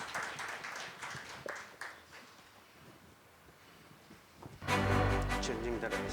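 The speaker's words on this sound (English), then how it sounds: "Huge round of applause for Mr." Audience applause at a CFO conclave rises abruptly and loudly near the end, following a stretch of quiet room sound with scattered voices, as the crowd honours Laxman K Prasad.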